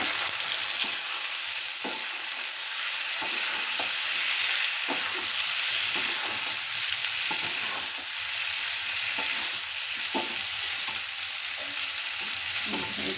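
Meat sizzles steadily in a hot pan, with a constant hiss of frying broken by regular scraping clicks as it is stirred every second or so.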